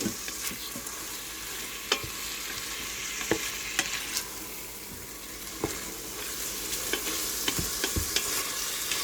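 Ingredients for beef stroganoff stir and sizzle in a pot with a steady frying hiss, broken by frequent sharp clicks and scrapes of the spoon, close and moderately loud.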